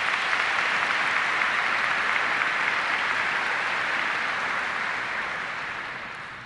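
Steady, dense applause from a large congregation fills a basilica during a Mass homily, holding strong before slowly fading toward the end.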